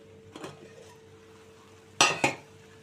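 Lid set on a cooking pot of okra and tomato curry, a soft clink early followed by two sharp metallic knocks near the end, close and without talk.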